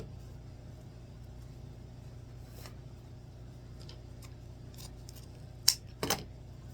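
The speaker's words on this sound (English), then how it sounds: "I'm going to fold those ribbons in half and cut up at an angle to dovetail" Scissors snip wreath ribbon ends at an angle with a few quick, sharp cuts near the end, close against a low background hum.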